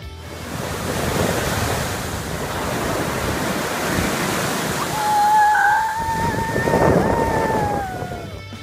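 Ocean surf rolling onto a California beach, a continuous loud roar of breaking waves with swelling surges and a faint tonal whine passing through midway.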